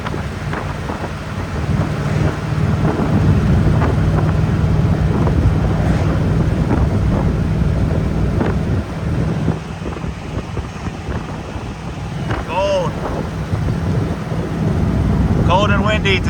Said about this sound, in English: Cold and windy today.